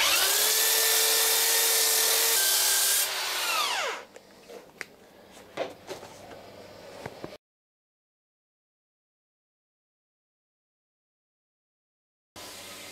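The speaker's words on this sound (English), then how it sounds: "try and keep the sander flat" A power sander held flat skims glue off a laminated wooden boat stem, a loud high whine for about four seconds that winds down, followed by scattered knocks and scraping, then silence.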